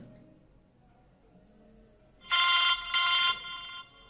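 An incoming call on an Android phone sets off a 3D ringtone, two loud bright bursts of electronic tones rising suddenly out of a quiet room.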